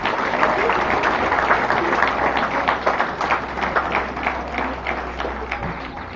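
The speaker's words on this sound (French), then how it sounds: "je vous demande d'applaudir la boule carbésienne" Crowd applauding during a town associations parade in Le Carbet, Martinique, a steady outdoor wash of clapping with a low hum beneath it, fading slightly toward the end.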